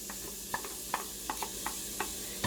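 Onions stirred in an Instant Pot for beef stroganoff give off a steady, low sizzle, broken by about ten short scraping clicks from the spoon. There is no talking.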